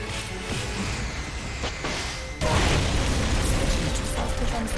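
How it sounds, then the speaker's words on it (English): A rocket launcher fires in the Metal Gear Solid video game, a dense roaring blast that jumps suddenly louder midway and stays heavy, with rumbling mechanical noise throughout. "Firing rocket launcher."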